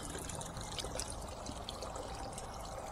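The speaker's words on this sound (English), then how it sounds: "I love the sound of water" Running water pours and gurgles continuously along a garden rill, a steady close rushing flow without breaks or talking.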